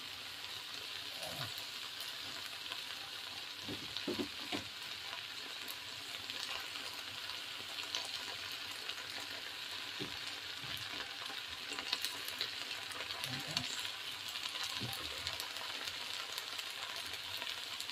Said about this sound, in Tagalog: Niluluto ko na eggs.